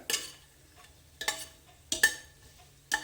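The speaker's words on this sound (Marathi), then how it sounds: "हे ड्रायफ्रूट्स थोडेसे परतून घ्या आणि साधारण तांबूस रंगावर त्यांना परतलं" Dry fruits being sautéed in a pan, heard as four separate bursts of stirring and scraping about a second apart, each with a soft sizzle, over a quiet background.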